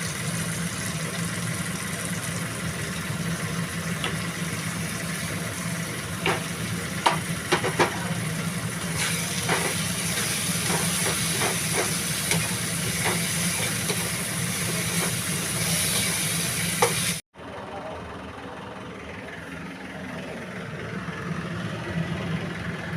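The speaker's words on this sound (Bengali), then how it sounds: "চিংড়ি মাছ কষিয়ে নিয়েছি কষিয়ে নিয়ে মশলা টশলা দিয়ে কষিয়ে নিয়েছি" Prawns sautéing with spices in a pan make a continuous hissing sizzle with scattered light utensil taps, then the sound drops abruptly to a quieter, duller hiss near the end.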